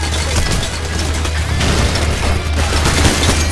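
Dense, loud gunfire in the heist shooter Payday: The Heist fills the whole stretch, a rapid continuous fusillade of shots with booming low end and no pauses.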